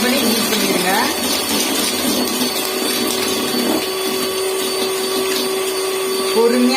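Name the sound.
mixer grinder beating sugar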